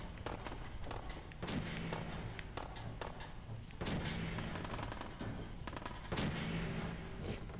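Gunfire from a .38 caliber gun in the video game Fallout 4 rings out as a steady run of sharp shots, with three heavier bursts that swell louder, all without any talking.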